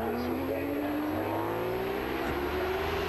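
A Ducati superbike racing at Cadwell Park during a Golden Era Superbikes round, a sustained high engine note that rises steadily under trackside race commentary.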